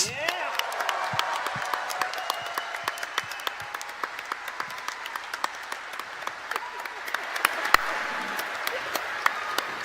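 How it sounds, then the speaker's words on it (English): Sustained applause from a large convention crowd at PAX Aus 2015, steady clapping throughout with scattered whoops and cheers mixed in. "a huge round of applause for the two hostesses with the mostesses."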